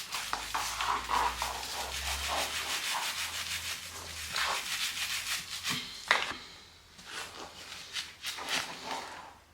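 Surface rust being brushed off car parts, heard as rapid, rhythmic scratchy scrubbing strokes up close, moderately loud and continuous with brief pauses and no talk.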